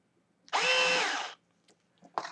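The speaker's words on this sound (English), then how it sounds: "You'll hear the motor sound, and that tells you it's all good." Small RC car electric motor spinning up after receiver sync: one short, high whirring burst, followed by a couple of faint clicks and a brief second whir, close and alone.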